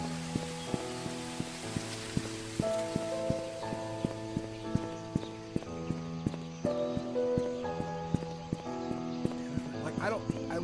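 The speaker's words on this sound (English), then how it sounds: "I wish I could change the ambient footstep sounds" Footsteps in the Painscreek Killings video game, a steady run of regular clip-clop-like steps heard close under layered tonal game music, with a person talking over it.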